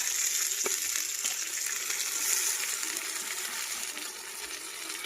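Tomatoes sizzling and frying steadily in a hot pan while chicken pulao is being cooked, a continuous close crackling hiss with small pops throughout.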